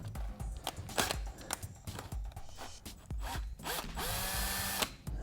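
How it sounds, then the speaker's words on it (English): A power drill bores a hole through a motorcycle fairing to mount frame sliders on a 2013+ Honda CBR600RR, with close, loud whirring in uneven bursts and a rising whine near the end. "And proceed to drill on the axis that I think is correct."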